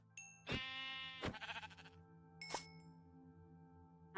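A sheep bleats once, a clear wavering cry followed by a shorter second call, then a bright metallic clink against a low background hum.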